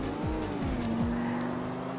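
A hot rod moon rover with all-wheel drive brakes hard in GTA IV, letting out a loud, sustained tire squeal over a roaring, rapidly shifting engine, all close up with no talk.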